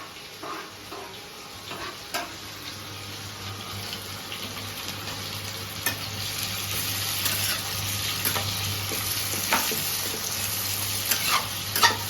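Onions fry in mustard oil in a pan for a potato dish, giving a continuous close sizzle that builds slightly. Stirring clicks and scrapes sound at irregular moments.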